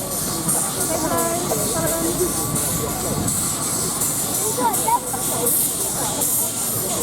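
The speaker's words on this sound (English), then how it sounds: "you can hear the hiss, that's the drain cock's open" A steady, broad steam hiss from a traction engine's open drain cocks at a steam rally, with the engine's rumble underneath and a voice talking faintly over it.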